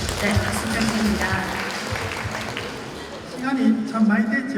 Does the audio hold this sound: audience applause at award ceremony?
yes